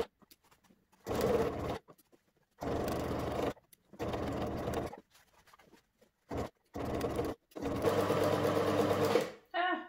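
A sewing machine stitches fabric for an 1888 dress bodice made from a Burda 7880 pattern, running in several close, loud bursts of rapid whirring separated by brief pauses.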